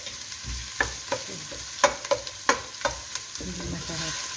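Marak sautéing in a pan with a steady hiss of frying, punctuated by several sharp scrapes and clinks of a utensil stirring against the pan, close and clear without talk.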